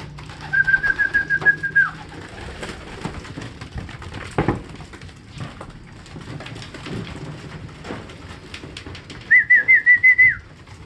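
Racing pigeons on derby loading day give short trilling, whistly calls in two bursts, one at the start and one near the end, close and clear over low ambient rustle, no voices.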